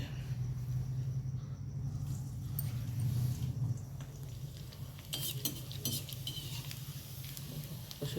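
Dried fasting kurvadi fritters fry in hot oil. A steady close sizzle and low bubbling runs throughout, with light stirring and some metallic clinks of a utensil against the pan near the end.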